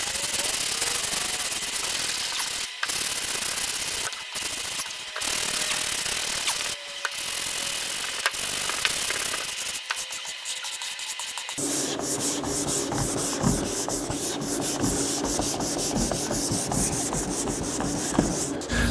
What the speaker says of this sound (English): We're going to block sand it starting with 180 grit sandpaper, just kind of rough it in, get it smoothed out